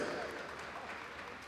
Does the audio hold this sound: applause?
yes